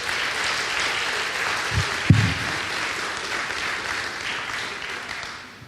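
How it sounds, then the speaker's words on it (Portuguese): A church congregation claps to welcome a youth group forward, a steady wash of applause with a brief knock partway through, tapering off at the end. "Salve de palmas."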